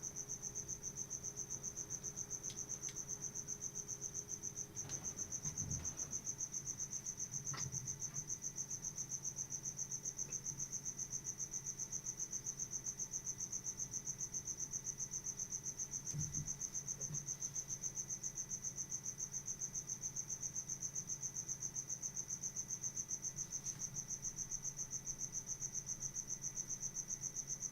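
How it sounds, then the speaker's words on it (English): Crickets escaped from a pet's tank chirp in the background, a continuous faint high-pitched trill running steadily throughout, with occasional soft thumps and clicks nearby. "Sorry if you guys hear the crickets in the background."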